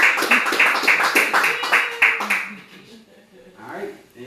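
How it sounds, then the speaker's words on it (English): A small group of kitchen staff claps in a brisk, loud burst for about two seconds, then it tapers off as a voice starts talking. "Please give yourselves a round of applause."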